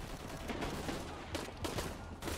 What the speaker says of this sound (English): These guys have shotguns!